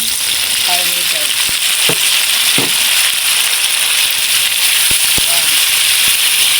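Meat frying in a pan with browned onion and garlic, a loud continuous sizzle close up, with a voice talking over it and a few clinks of stirring.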